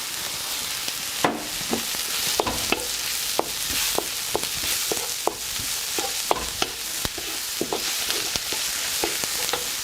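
Oil and food for fried rice sizzles steadily in a hot pan, with sharp scraping and clacking from stirring scattered throughout; no voices.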